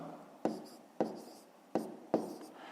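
A pen or pencil strikes paper four times, writing out numbers in a fifth-grade maths exercise, each crisp tap followed by a short, quiet scratching stroke, close and fairly soft.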